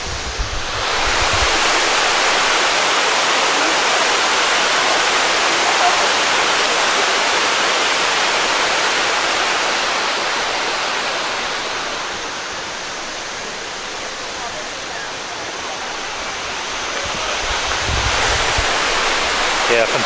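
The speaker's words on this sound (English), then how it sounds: "This is the waterfall." A waterfall in South Vietnam roars with a loud, constant rush of falling water that dips a little in the middle before building again, with no voices over it.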